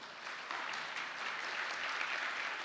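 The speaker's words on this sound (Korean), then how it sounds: "제가 박수를 받을 것이 아니라 하나님이 전도하신 것입니다." A church congregation claps together at a worship service, a dense, even roar of many hands that stays loud and steady from start to finish, with no voices over it.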